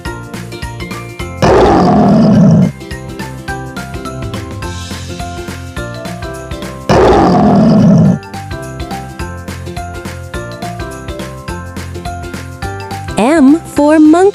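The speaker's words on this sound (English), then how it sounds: "L for lion. Lion says" Two loud, sustained lion roars burst out over a bright, jingly children's tune, each lasting about a second, with cheerful musical accompaniment continuing between them.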